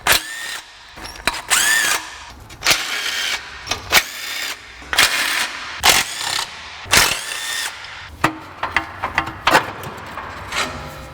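A ratchet with a wobble extension works loose bolts on the 3.2L engine of a 2004 Acura TL. Bursts of rapid clicking and whirring start and stop repeatedly, close and loud, separated by brief gaps.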